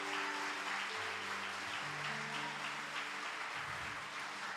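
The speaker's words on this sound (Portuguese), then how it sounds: "Pode aplaudir a Jesus." Church congregation applauding during a Brazilian thanksgiving worship service, a dense, steady wash of clapping that fills the whole stretch, set against sustained organ or keyboard tones.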